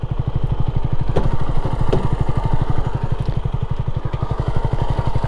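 A 1980 Honda CB250RS single-cylinder motorcycle engine running, a loud close steady thumping idle with fast even pulses and slight mechanical clatter, no talk.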